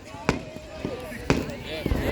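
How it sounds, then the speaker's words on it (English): Fireworks bursting outdoors at the start of a display, with a few sharp pops and thin whistling streaks spread over about two seconds while people chatter and call out nearby. "fireworks are starting."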